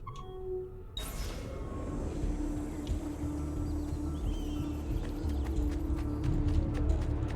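Horse hooves clop steadily in the Assassin's Creed 2 video game on Xbox Series X, a continuous trotting rhythm under a dense bed of game ambience, with no one talking.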